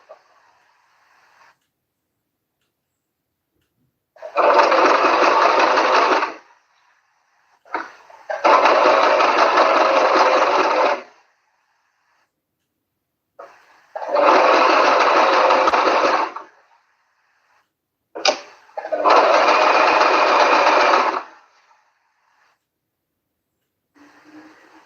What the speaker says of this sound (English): And then we'll sew down.